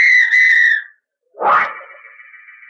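A police officer's whistle on a street blows loud and close in two shrill blasts, the first steady and about a second long, the second starting with a burst and then trailing off more quietly.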